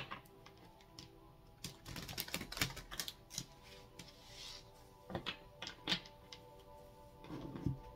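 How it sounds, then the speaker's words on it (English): A deck of tarot cards being shuffled by hand, giving irregular bursts of crisp card riffles and slaps close up, some clustered and some spaced apart, with no talking. "Last shuffle here before we cut the deck."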